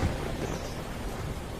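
Rain falls as a steady, rumbling wash of noise heard close, dense and continuous over a brief moment, with no voices.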